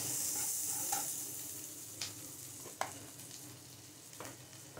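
Soya chunks sizzle in a frying pan with a little salt as they are stirred, giving a soft continuous hiss broken by a few light scraping knocks from the spoon against the pan, close and fairly quiet.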